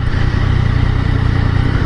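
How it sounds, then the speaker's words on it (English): A three-cylinder Yamaha FZ-09 motorcycle engine hums steadily at low speed, a continuous loud droning rumble with a throbbing low pulse and no other sounds. "I kind of like the sound of the triple engine"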